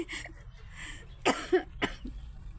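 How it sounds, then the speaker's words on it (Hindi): Two sharp coughs ring out close by, spaced about half a second apart, after some quiet background murmur. "खांसी हो रही है"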